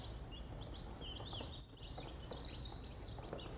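High, thin peeping calls of newly hatched chicks in a brooder chirp repeatedly over a dense background rustle, fairly close, with no speech.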